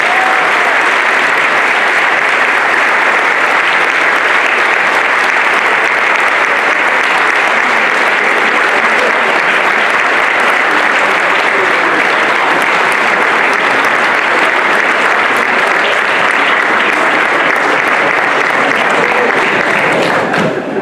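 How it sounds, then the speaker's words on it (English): Loud, continuous applause from an audience at a political party chairman debate, a dense wall of clapping that runs steadily for about twenty seconds without letup. "please join me in giving a round of applause to all of our team"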